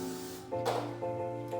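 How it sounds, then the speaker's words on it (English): Hairspray is spritzed onto a freshly teased section of cheer hair, a short quiet hiss repeated in two brief bursts over a faint background hum. "you're going to spray it."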